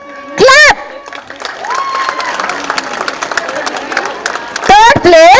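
Audience clapping and cheering at a school annual sports meet as an overall championship place is announced; a dense, steady patter of applause with crowd noise fills the middle, with an announcer's voice just before and after.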